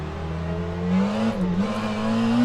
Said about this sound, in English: I've stamped on the throttle there